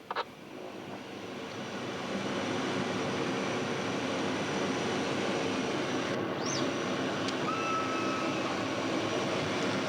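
Executive airplane taxiing on a taxiway, its engine drone building from quiet to a steady loud whine after a couple of seconds, with a thin high tone and a brief chirp over the constant noise.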